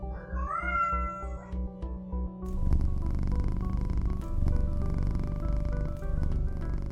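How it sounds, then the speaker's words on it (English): A cat meows a few times up close, then purrs in a low, continuous rumble that carries on to the end, with no talk. "supervising as always is Vega the cat"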